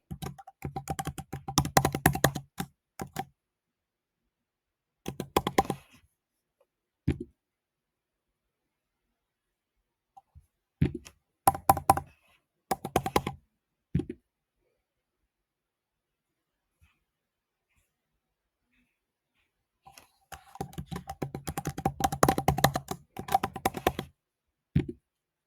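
Someone types a password on a Mac computer keyboard, sending quick, close runs of crisp key clicks in several separate bursts with long silent pauses between them.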